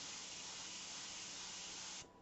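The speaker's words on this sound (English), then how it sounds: "we're going to test spray on here. Make sure the airbrush is working correctly." Steady broadband hiss of an Extreme Patriot 105 airbrush test spraying paint, loud and continuous for about two seconds before cutting off abruptly, with no talk.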